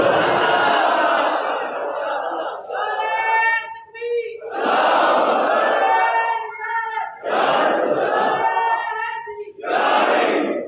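A large congregation at a Friday sermon shouts back in loud, unified bursts in response to a religious slogan chant, about four strong waves of massed voices with brief gaps between them.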